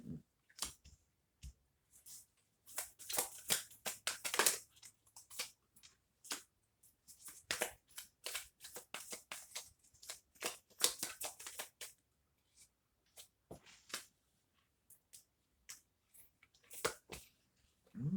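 Tarot cards handled and drawn from a deck for a New Year reading, heard as soft crisp shuffles, slides and snaps in scattered bursts, close and quiet with no talking.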